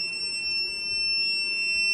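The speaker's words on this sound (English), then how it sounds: "but there's a beep sound" A 4U industrial EATX server beeps continuously after one of its power supplies is pulled, a steady high-pitched alarm tone sounding over faint fan hum.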